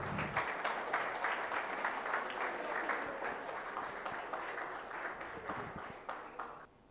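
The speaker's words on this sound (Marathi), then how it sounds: "टाळ्या वाजत राहिल्या पाहिजे." An audience at a project competition prize distribution gives the winners steady, dense clapping that gradually thins and fades to a few scattered claps before stopping at the end.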